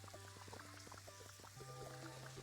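Water being poured in the Fresh Start Cleaning Simulator video game, a quiet burbling stream of small bubbly plips over a steady low hum, continuous for a couple of seconds with no talk.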